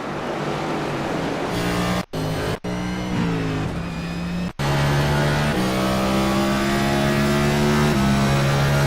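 Race cars roar around the Richmond oval in the NAOR Cup racing game: a loud, sustained engine drone with shifting pitch as cars rev and pass, broken by a few brief dropouts.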